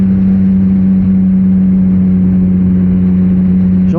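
A 2021 Yamaha MT-09 motorcycle engine runs steadily and loudly at a constant pitch, a close, continuous idle-like drone with no clear revving or speech.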